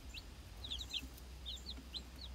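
Chicks peep in soft, high, repeated chirps in small clusters over a low steady background hum, faint and close, with no talking.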